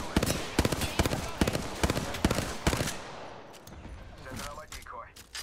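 Gunfire in the game Apex Legends cracks out as a rapid series of sharp shots that stops partway through, followed by quieter in-game effects and a faint voice.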